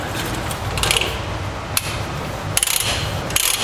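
A ratchet is cranked to put load on a bent-down tow hitch on an F450 trailer setup, giving up-close bursts of quick metallic clicking between pauses over steady background noise.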